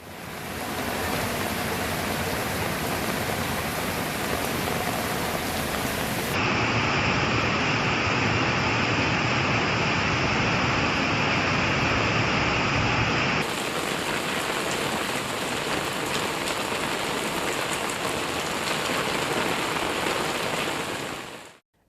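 Steady rain falling in Salem district near Vazhapadi, a dense continuous hiss that holds for over twenty seconds, loud and close, with a change in tone partway through and no voices.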